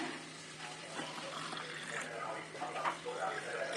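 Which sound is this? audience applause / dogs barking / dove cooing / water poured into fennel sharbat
water poured into fennel sharbat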